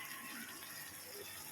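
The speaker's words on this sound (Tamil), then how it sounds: "சிக்கன் வேகணும்ல, அதனால் கொஞ்சம் லைட்டாக நம்ம தண்ணி சேர்த்துக்கிட்டாச்சு." Water poured into a pot of chicken kurma cooking on the stove, a quiet steady liquid splash and trickle lasting a moment and heard alone without talk.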